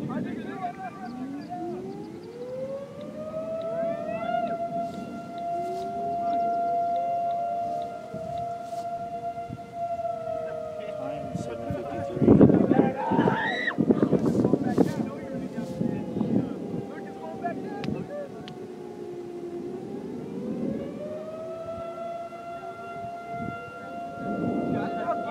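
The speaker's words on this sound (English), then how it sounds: "Siren's going in Dimmitt." A civil defense tornado siren in Dimmitt, Texas wails in long rising and falling tones, distant and sustained, with wind buffeting and people talking over it.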